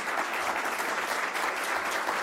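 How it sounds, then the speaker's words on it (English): Applause at a public-health gathering: a thick, even wall of many people clapping, sustained and fairly loud throughout the short span, with no talk over it. "give her applause"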